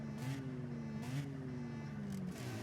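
A car engine in the CSR2 racing game drones steadily at moderate volume, its tone sliding slightly up and down as the revs shift, with faint whooshing surges layered over it.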